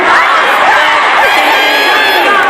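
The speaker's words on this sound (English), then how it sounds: "I want you guys to scream it as loud as you can." A large crowd at a preaching event screams together in one loud, sustained, mixed-voice roar that fills the whole moment at close range.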